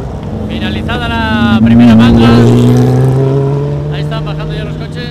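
Race cars come back down the mountain road after a hill climb run, engines droning and rising in pitch as they pass fairly close, with people talking over the passing engine noise.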